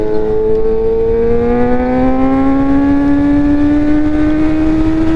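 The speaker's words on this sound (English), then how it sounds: "this is the bike sounding extra good right now" A Suzuki GSX-R 750 motorcycle engine under load while riding, a loud, steady whine rising gradually in pitch as it accelerates, with constant wind roar and no talking.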